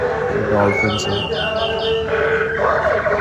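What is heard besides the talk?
bird sounds from moving bird statues at animal exhibition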